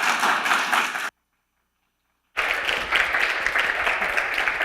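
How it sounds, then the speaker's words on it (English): Warm applause from a seated audience at an academic talk on strategic communication, a dense steady patter of many hands that cuts out abruptly for over a second and then resumes just as strongly. "I'd like to just give a big round of applause and say thanks to Tim for coming in today."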